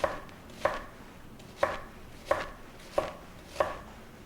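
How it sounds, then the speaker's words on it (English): A knife slicing a shallot on a cutting board, six crisp evenly spaced chops close up with quiet pauses between, no voices. "So I'm going to slice the shallot."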